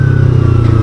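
Kawasaki Ninja 300 BS6 motorcycle fitted with an aftermarket Akrapovic slip-on exhaust, idling close and loud with a rapid, even throbbing exhaust pulse over a deep rumble, no speech.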